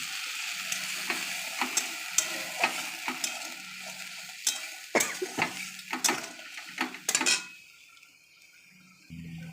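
Masala frying in a pan gives a steady close sizzle, broken by repeated scraping stirs from a spoon, until the sizzle drops away near the end.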